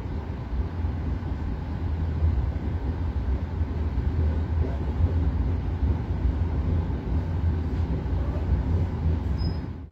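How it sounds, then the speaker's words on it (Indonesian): Matarmaja economy-class train pulling out of Blitar station, heard from inside the carriage as a steady low rumble and rolling noise that holds evenly throughout, with no voices. "perjalanan kereta api Matarmaja sudah diberangkatkan dari stasiun Blitar"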